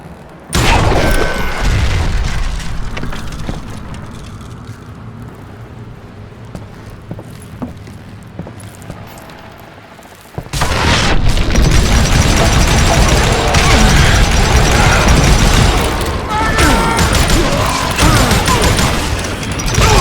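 Dynamite blasts in the Western shooter game Call of Juarez Gunslinger: a loud rumbling roar, then a sudden heavy boom about midway that opens into a dense, crashing wall of debris noise lasting to the end.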